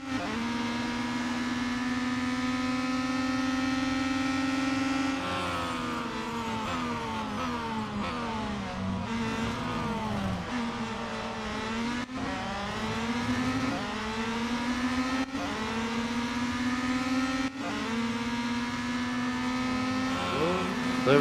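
Race car engines in the Real Racing 3 video game whine and rev continuously, pitch climbing and dropping through gear shifts, loud and sustained with a few brief breaks.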